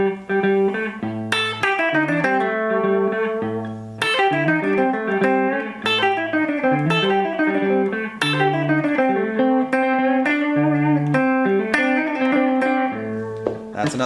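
Electric guitar plays a bluesy blues-scale lick with bends and slides layered over a repeating low riff, clean to lightly driven, steady and close for about fourteen seconds.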